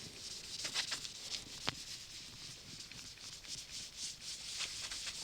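Cloth towel rubbing gilt cream into a sapele wood bowl held on a stationary lathe, giving a soft, steady close-up scrubbing with faint scratchy strokes and one brief sharp tick, no talking.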